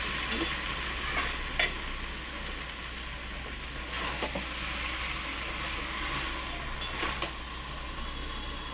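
A spoon stirs cumin powder and spices in a frying pan, giving an even sizzle with a few sharp scrapes and clinks over a low steady hum, close and without speech.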